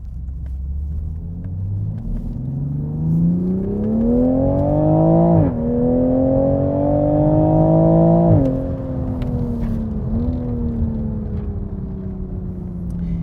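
A flash-tuned 2020 Toyota Supra accelerates hard through several gears, its engine note rising steadily and dropping sharply at each upshift, loud and close with a constant road rumble underneath and no talk.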